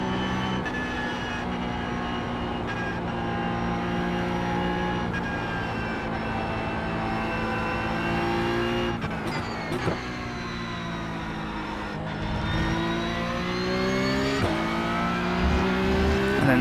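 A Porsche Cup race car in a racing video game, its engine droning steadily at high revs with clear gear shifts and pitch swings through corners, loud and continuous with no talking.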